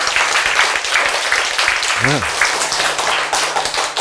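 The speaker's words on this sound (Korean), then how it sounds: "박수." Audience applause during a Korean health lecture, a steady broadband wash of clapping running throughout at fairly loud level, with a voice speaking briefly over it.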